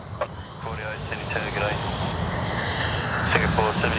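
A DHL cargo jet roars past at Sydney Airport, a broad engine rumble that swells toward the end, with people talking over it throughout.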